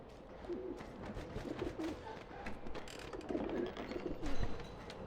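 Doves coo in a birdcage coop in the game Alice: Madness Returns, with repeated soft throaty calls rising and falling at moderate level over a continuous ambient game soundscape.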